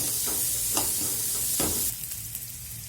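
Spoon stirring a cabbage, potato and eggplant curry with green chilli in a hot pan, steady sizzling with a few soft scraping strokes, close and alone without voices.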